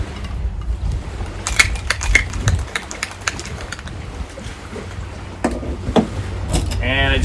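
Ice rattling in a cocktail shaker during the mixing of an amaretto, cranberry and pineapple juice drink, heard as a run of sharp clattering shakes in bursts close to the microphone.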